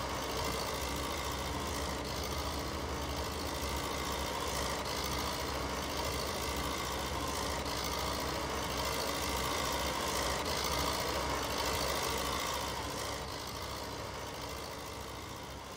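Loud tractor idling in Farming Simulator 2019, a steady unbroken engine drone that stays even for the whole stretch and eases slightly at the end, with no voices.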